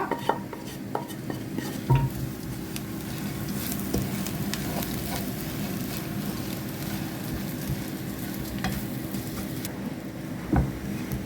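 Steady scraping and light clinking of a utensil stirring fried dried prawns in a pan, continuous for several seconds with a couple of sharper knocks, no talking.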